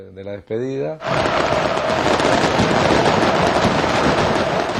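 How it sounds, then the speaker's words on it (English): Illegal fireworks display set off at a Boca football farewell match, a dense, loud, sustained crackle of bursts filling the air right after a brief voice-like sound at the start. "His surprise, arranged by Boca's top hooligan, was an illegal fireworks display."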